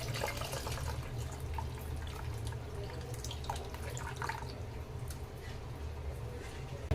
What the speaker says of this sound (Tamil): இப்போ 2வது தண்ணி அதில் நான் புழிஞ்சு கரைச்சி ஊற்ற போகிறேங்க